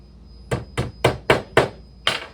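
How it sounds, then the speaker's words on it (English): Two small wooden dowels tapped into holes on either side of a magnet in a wooden puzzle piece: six crisp, evenly spaced hammer knocks close by, alone without speech. "Grab 2 E6s. And we're going to hammer those into the holes on either side of the magnet."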